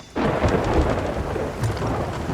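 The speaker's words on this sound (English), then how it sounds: "Man, I've actually never really played when there's storms." A thunderstorm in Sea of Thieves rolls in suddenly, steady rain and low thunder rumbling loudly and continuously with no voices over it.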